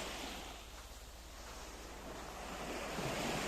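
Gentle sea water laps at the shoreline of Lara Bay beach in Cyprus, a steady close-up wash of surf with soft wind across the microphone, continuous and swelling slightly louder toward the end.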